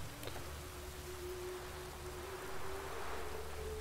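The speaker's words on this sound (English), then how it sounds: "Still raining." Steady rainfall in The Witcher 3 hisses as a soft, even wash of noise with a faint tonal hum underneath, continuous and without any talking.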